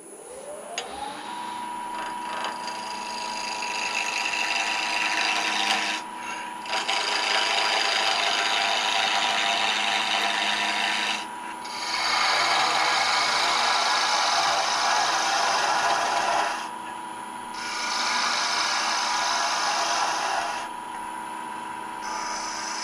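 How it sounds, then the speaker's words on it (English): A wood lathe turning a letter opener at about 1500 RPM gives a steady whirring motor hum with a constant tone. Louder scraping stretches from the tool against the spinning workpiece alternate with brief quieter pauses, close and continuous, with no talk. "For lathe speed, I'm only turning this about 1500 RPM."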